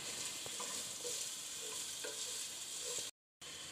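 Carrot pieces fry in an oil-filled pan with a steady, close sizzle, broken by a few soft scrapes and taps as a spoon stirs them. The sizzle cuts out briefly near the end, then resumes.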